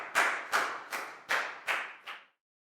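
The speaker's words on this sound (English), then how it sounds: "Big round of applause for Pak Bung." Six sharp hand claps from a class applauding a pupil during a Year 4 English lesson, evenly spaced and close, each with a quick fade, ending in silence.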